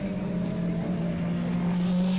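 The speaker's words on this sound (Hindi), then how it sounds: "ये कावासाकी Z800" Kawasaki Z800 motorcycle engine on a race track at a heavy bike racing event, a loud sustained steady drone with no obvious pass-by or gear change.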